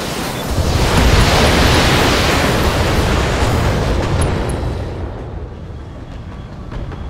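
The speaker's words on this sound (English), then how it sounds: "So we blew off an arm and got a weapon and got an explosion" A huge explosion in the Battletech mech combat game roars as a loud, broad rumbling blast, swelling for a few seconds and then slowly fading, with no talk over it.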